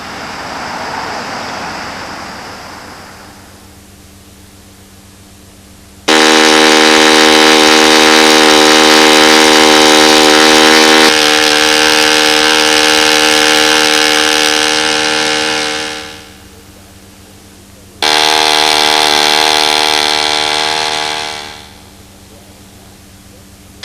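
An engine fitted with a header runs loud and close, giving a strong, droning, harmonic roar in long bursts that rise and cut off. Wind-like rumbling comes before the first burst.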